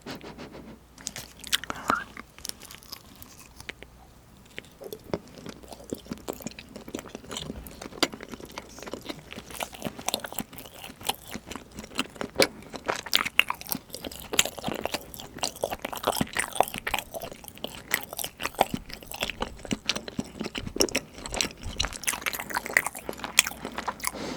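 Close-up chewing of colourful cheese with herbs, with soft repeated bites and moist crunchy mastication in an irregular rhythm, quiet and intimate throughout.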